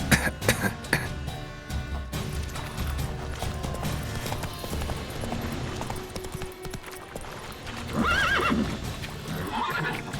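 Geralt's horse Roach in The Witcher 3 gallops with rhythmic clip-clopping hooves, then lets out a loud neigh near the end, set against in-game ambience.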